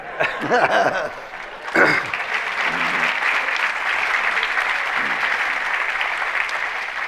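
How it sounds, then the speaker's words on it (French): A crowd bursts into steady applause that carries on throughout, with a few voices and a little laughter mixed in at the start. "les applaudissements se dirigent vers Denise, bien sûr"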